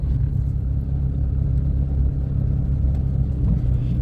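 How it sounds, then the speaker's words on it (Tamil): Car pulling uphill during a driving lesson as the learner eases onto the accelerator, a steady low engine rumble continuing throughout with no talk. "இப்போ நீங்கள் லைட்டாக ஆக்சிலேட்டர் கொடுத்தா தான் வண்டி போகும்."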